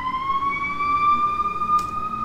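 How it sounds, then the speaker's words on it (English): A loud emergency vehicle siren holds a steady wailing tone that sweeps slowly upward, with a brief noisy burst near the end. "There's a siren."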